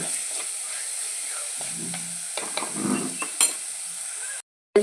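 Small shallots sizzle and are stirred in a hot pan, a steady frying hiss with soft scraping strokes of the spoon, close and unbroken until a sudden cutoff at the end.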